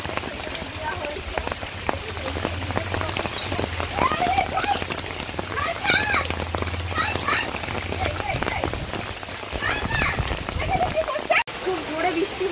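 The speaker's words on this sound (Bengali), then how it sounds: "খুব জোরে বৃষ্টি হচ্ছে" Heavy rain pours steadily onto surfaces during Cyclone Remal, a dense close hiss with splashing drops throughout, while a person talks over it.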